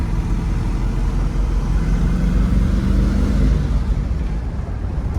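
A 1971 Ford Mustang Boss 351 with a 351 Cleveland V8 and a Hurst 4-speed runs with a loud, steady low rumble and a slight swell midway, heard up close without talk.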